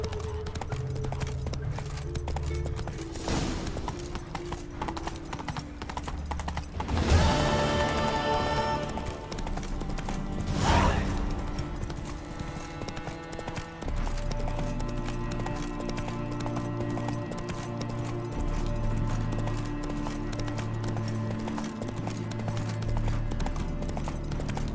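A horse's hooves clip-clop steadily at a gallop in The Witcher 3: Wild Hunt, moderately loud and continuous, with a couple of sharp crashes midway and game music beneath.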